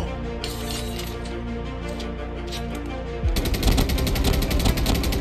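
Sustained automatic gunfire from a shooter video game, with rapid bursts over steady game background and a louder, denser stream of shots in the final seconds.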